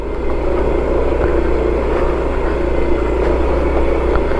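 A Yamaha Mio scooter climbs a muddy trail on a hiking route in Tanay, Rizal, its small engine droning steadily and loudly up close with a continuous low rumble throughout.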